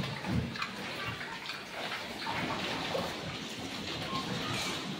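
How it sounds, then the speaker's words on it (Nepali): On a small farm where pigs are kept, water spills and splashes out in a steady, fairly faint rushing pour lasting several seconds. "फेरि यो त्यसले पानी पखायो"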